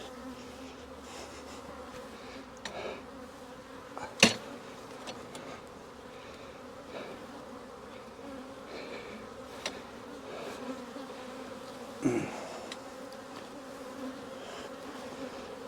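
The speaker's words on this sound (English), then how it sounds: "Bees are a little bit feisty today because of the humidity." Honey bees buzzing around an open hive on a humid day, a steady close hum of many insects with a couple of brief sharp knocks from hive handling.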